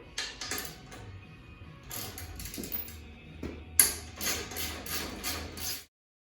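A ratchet on a 1/2 inch drive works loose the exhaust bolts of a motorcycle fitted with a 4-inch Rinehart Racing slip-on, giving quick bursts of close metallic clicking and clattering separated by brief pauses, then stopping abruptly.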